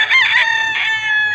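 A rooster crows in a long, loud, close call at a chicken farm in Padre Garcia, Batangas, the strained cry rising then holding across the whole moment.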